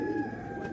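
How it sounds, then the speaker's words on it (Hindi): A pigeon coos close by in a single soft, low, rolling call that lasts under a second, with a faint steady tone behind it. "ये ले जी, किसी का कबूतर भी आ गया ऊपर।"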